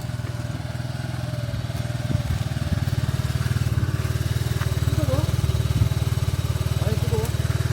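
A motorcycle engine idles nearby with a steady, low, throbbing putter, faint voices drifting over it now and then.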